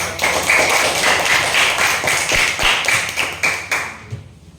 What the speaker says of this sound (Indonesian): Ya, berikan dulu tepuk tangan.